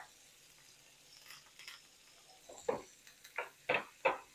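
Steak frying in a pan with thyme, rosemary and garlic, a faint background sizzle punctuated by a few louder spattering bursts that grow stronger toward the end.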